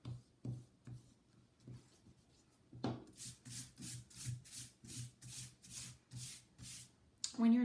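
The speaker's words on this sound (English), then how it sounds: "you want to take your eraser and erase any extra pencil marks that might still be showing" Pencil eraser rubbing back and forth across paper while tidying a drawing, a steady run of about ten quick scrubbing strokes in even rhythm, close and fairly quiet over a low background hum.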